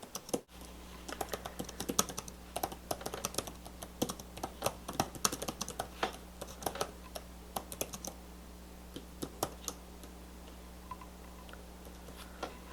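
Quick, steady typing on the keyboard of an Acer Aspire P3 tablet held at a slight angle, with dense, close key clicks in irregular bursts over a faint constant hum.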